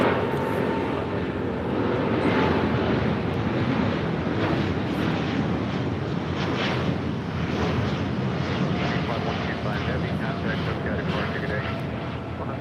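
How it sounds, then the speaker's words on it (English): An All Nippon Airways Boeing 787-8 Dreamliner, operated by Air Japan, takes off at LAX bound for Tokyo Haneda, a steady broad engine roar with wind buffeting that holds for the whole stretch, loud and continuous. "This is All Nippon Airways Flight 125 Heavy, operated by Air Japan, taking off to Tokyo Haneda on a 787-8 Dreamliner."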